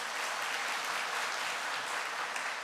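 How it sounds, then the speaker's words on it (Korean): A church congregation applauding after a sermon, a dense, steady wash of many hands clapping together at even loudness throughout. "다시 한번 말씀 전해주신 목사님께 우리 박수로 감사를 드리겠습니다"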